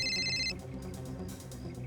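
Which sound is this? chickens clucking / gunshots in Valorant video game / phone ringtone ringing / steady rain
phone ringtone ringing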